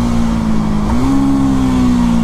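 KTM Duke 250 motorcycle engine, 2025 model with TFT display, holding a loud, steady drone with a slight rise in pitch partway through, no talking over it.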